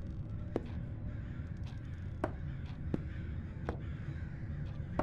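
A crow in the game Summer of 58 caws several times in short sharp calls spaced over a low background hum, fairly faint and with no voices.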